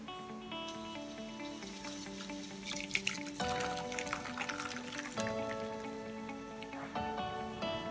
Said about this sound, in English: It's now time for serving this into a serving bowl.